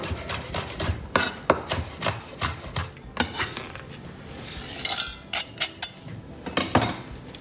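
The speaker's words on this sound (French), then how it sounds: "Petites amandes torréfiées. Pareil, tu veux les écraser comme ça ou les casser." Roasted almonds crushed by hand in a kitchen, heard as a rapid series of close, sharp scraping and grinding strokes with a rough rasping texture, in short uneven bursts.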